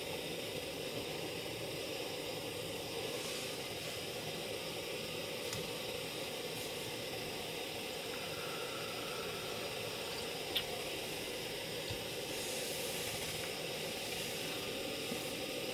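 A Soto Stormbreaker camping stove burns at full flame with a lid on the pot, giving a steady, even roaring hiss that stays constant throughout, close and moderately quiet, with no talking.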